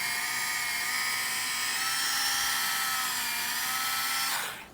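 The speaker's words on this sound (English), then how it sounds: "Drill through." A high-pitched power drill whines steadily for several seconds as it bores through a Mini 4WD rear stay part, loud and close, then winds down abruptly at the end.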